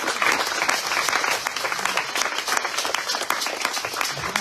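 A church congregation breaks into sustained, dense applause to acclaim Jesus, a loud, even wash of clapping that continues throughout without talk.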